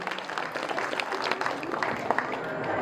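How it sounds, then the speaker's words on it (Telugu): An audience at a women's event applauds the women who drew rangoli, a dense, steady wash of many hands clapping throughout, moderately loud and fairly close. "వేసిన వాళ్ళందరికీ మరొక్కసారి చప్పట్లు కొట్టి అభినందనలు తెలియజేయండి."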